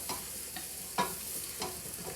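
Minestrone vegetables cook in a pot over medium-high heat, giving a steady soft sizzle. A few scraping stirs of a spoon sound close by, with no voices.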